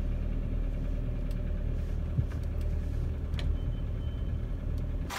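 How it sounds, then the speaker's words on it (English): A car engine idles steadily after its throttle body has been cleaned, giving a smooth, even, low rumble that stays constant without revving and with no voices. "Engine is running and the engine sounds really nice"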